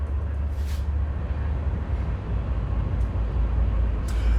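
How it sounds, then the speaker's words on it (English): A train rolls past close by, a heavy, steady rumble with grinding noise that holds at the same loudness throughout, with a few brief high hissing bursts. "Train!"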